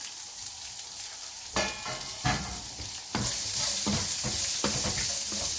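Sliced shallots fry in a pan with a steady sizzle, broken by the scrape and clatter of a spoon as they are stirred.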